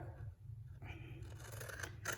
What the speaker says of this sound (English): I'm going to take my scissors, and I'm just going to cut